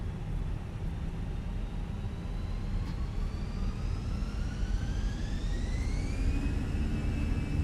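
Airliner engines spooling up to takeoff thrust in a flight simulator, a broad steady roar with a rising whine that climbs steadily in pitch and then levels off.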